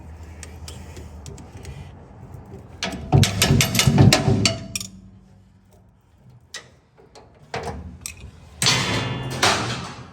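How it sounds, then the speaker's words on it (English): Screwdriver knocking a part out of a gutter machine during repair: bursts of rapid metallic tapping and rattling, close and sharp, separated by quieter pauses. "Get a screwdriver and knock it out of there."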